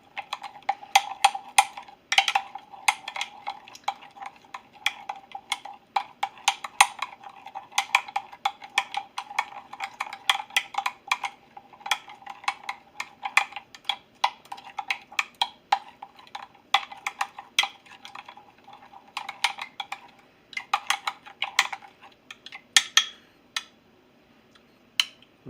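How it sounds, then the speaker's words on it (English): A spoon clinks and scrapes against a bowl as yum yum sauce is stirred, giving a quick irregular run of sharp ticks and taps with brief pauses, close and fairly loud. "You give it a nice stir."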